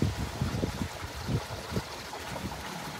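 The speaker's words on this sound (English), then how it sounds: "over here you can see the water still pouring out" Water from an aquaponics grow bed pours and drains steadily as a continuous rushing, trickling wash, fairly close, with low gurgling pulses early on and no voices.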